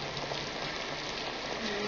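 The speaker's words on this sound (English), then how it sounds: "And it's raining pretty hard." Heavy rain falling in a 1946 film scene, a steady, dense hiss that stays even and fairly loud throughout without a break.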